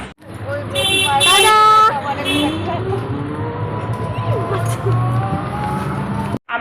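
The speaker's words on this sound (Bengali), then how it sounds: "লরি আসছে দাঁড়াও" A lorry passes along a road: a loud horn blast sounds early, then a steady engine rumble rolls on close by, with voices faintly underneath.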